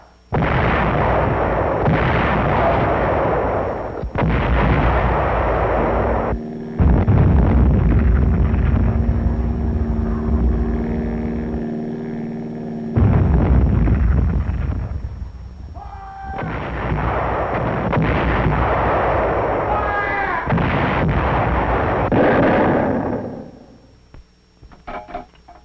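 WWII artillery guns fire in battle, heavy booming blasts in separate loud bursts with rumbling decay between them, some rolling barrages overlapping, with no voices over the gunfire.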